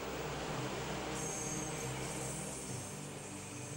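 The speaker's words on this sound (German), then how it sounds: "Im Morgendunst erreicht ein Zug den Bahnhof Zoo." A train pulls into Berlin's Bahnhof Zoo on the Stadtbahn on a misty morning, giving a steady, loud rumble of wheels and engine with a hissing high band that shifts partway through, with no voices.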